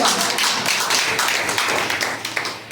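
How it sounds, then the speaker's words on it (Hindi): A crowd claps steadily and vigorously, with dense overlapping hand claps at a constant level throughout. "हम सर के लिए जोरदार ताली बजाएंगे।"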